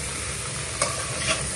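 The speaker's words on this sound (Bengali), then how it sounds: "এখন আমি ফুলকপিগুলো ভেজে নিচ্ছি।" Cauliflower pieces fry in a pan with a steady close sizzle, broken by a couple of quick stirring scrapes in a brief burst.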